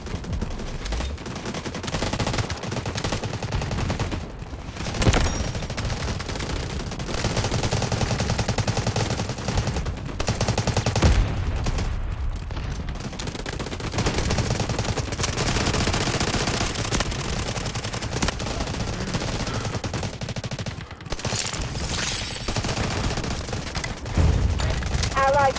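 Sustained Bizon submachine gunfire in the mobile shooter Delta Force Mobile, loud and dense bursts running almost continuously for about 25 seconds, mixed with battlefield noise and occasional faint voices.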